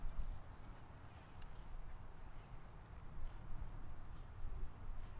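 Horse hooves clop at a steady walking pace, faint and continuous, against a low rumbling background.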